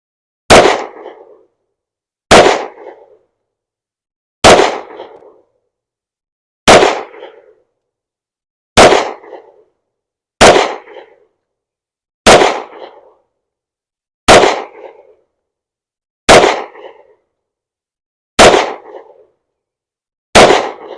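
Eleven shots from a Glock 30 .45 ACP pistol firing 180 grain full metal jacket rounds, each a sharp loud crack with a short decaying tail, evenly spaced about two seconds apart with silence between.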